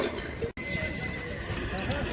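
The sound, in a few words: stallion neighing at horse market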